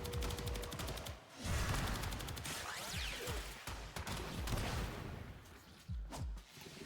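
The Vasto Prime Incarnon fires in Warframe in rapid bursts of sharp, punchy shots with whooshing effects and mechanical clatter, the volume rising and falling through a busy combat mix.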